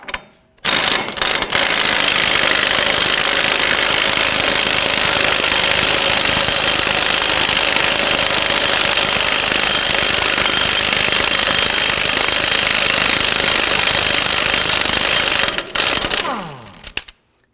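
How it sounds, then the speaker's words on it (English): Loud, continuous rapid hammering rattle of an impact wrench with a 32mm socket loosening a front axle nut on a 2008-2011 Ford Focus, running steadily for about fifteen seconds before stopping. "Using a 32mm socket, we're going to loosen and remove our axle nut."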